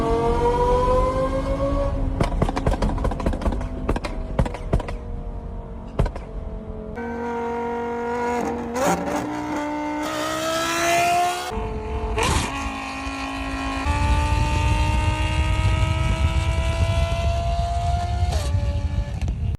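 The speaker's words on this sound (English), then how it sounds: "Here's an Audi R8 in real life for reference." Real Audi R8 engine heard loud and alone, with sharp revs climbing and falling repeatedly, quick blips and gear changes, a long rising pull midway, then a rougher, lower rumble toward the end.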